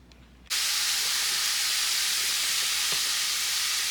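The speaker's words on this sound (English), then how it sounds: "Joe just added the fresh hamburger to the hot cast iron pan, and now he's adding the sausage" Fresh hamburger and then sausage dropped into a hot cast iron pan burst into a loud, steady sizzle that starts abruptly and holds as a dense hiss from close by, with no talking.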